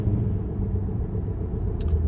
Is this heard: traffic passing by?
yes